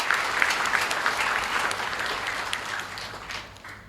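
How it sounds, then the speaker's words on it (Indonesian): Graduation audience applauding parents at an academy of nursing ceremony in Medan, a dense, steady wash of clapping from a large hall crowd that fades slightly toward the end. "Boleh berikan tepuk tangan apresiasi sebesar-besarnya untuk orang tua kita."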